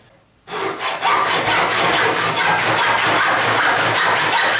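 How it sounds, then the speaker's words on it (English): A hacksaw cuts through plastic Wiremold raceway track in quick, even back-and-forth strokes, loud and close, starting after a brief hush and continuing steadily to the end. "So we're going to go ahead and cut the track now. This stuff isn't too overly difficult to cut. Hacksaw usually gets the job done."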